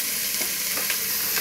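Frozen vegetables, thrown straight from the freezer into a hot stir-fry pan, sizzle loudly and continuously close up, with a soft stirring scrape now and then and no talk.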